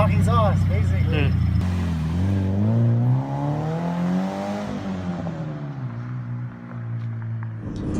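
Scion FR-S exhaust fitted with an aftermarket muffler, revving up and settling back in a rising and falling drone, close and loud, with people talking over it.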